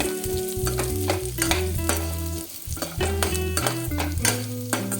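Lentils dry roasting in a pan for garlic paruppu podi, with a spatula scraping and stirring in quick repeated strokes over a soft dry rustle of the lentils, loud and close.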